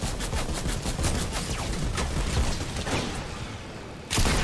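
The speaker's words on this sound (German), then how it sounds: "Hab ihn aus dem Flugzeug geschossen." Rapid, sustained automatic gunfire in a Fortnite Battle Royale match, aimed at an airplane, rattling loudly and continuously for several seconds before a sharp louder burst at the end.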